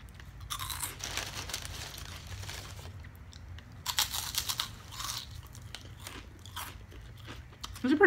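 Crisp crunching bites and chewing sound close to the mic, irregular bursts over quiet background, with no talking.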